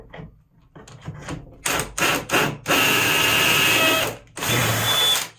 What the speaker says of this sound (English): Alright, so we're going to go ahead and do some pocket holes.